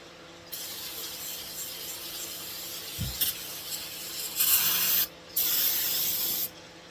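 Brake cleaner sprays from an aerosol can onto a wheel bearing in several bursts: a long steady hiss, a short pause with a metallic knock, then two more forceful close-up blasts separated by a brief gap.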